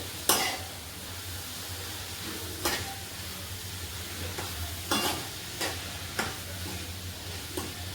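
A spoon stirs vegetables seasoned with salt in a pan over a steady sizzle, with sharp scraping knocks against the pan at irregular intervals and no speech.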